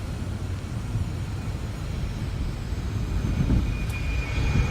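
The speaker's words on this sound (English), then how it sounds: "There goes a Delta jet lifting off." A Delta jet airliner lifts off from a Delta hub airport, heard as a distant, steady low engine roar that swells slightly toward the end, with no talking.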